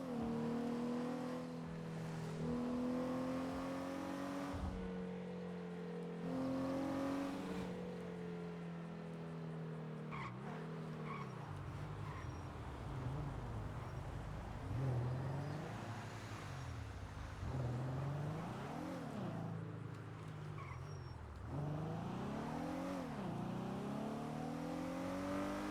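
Race cars overtaking in a video game, engines revving and whining as they rise and fall in pitch through gear shifts, a steady synthetic roar that stays fairly quiet throughout, with no voices.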